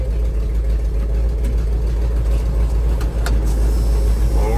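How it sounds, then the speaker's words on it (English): A 1973 Ford F250 pickup engine runs at a steady idle after starting, producing a loud, close, constant low rumble with faint rattles and no voices. "We're going to start up our old Ford F250 here"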